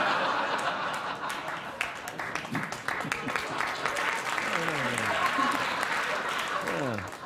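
Studio audience on a late-night talk show breaks into steady applause mixed with chuckles and laughter, filling the whole stretch at moderate loudness while a voice talks over it.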